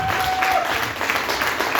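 An audience at a documentary event applauds, a brief burst of steady clapping from a crowd with faint voices underneath.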